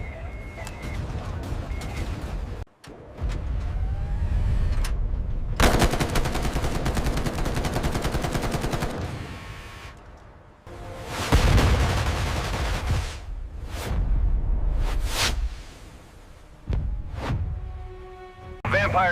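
Shipboard Phalanx CIWS and RAM launchers fire at incoming missiles in a naval combat scene, with long roaring bursts of rapid gunfire and launches broken by short pauses, loud and close, mixed with radio-style voices.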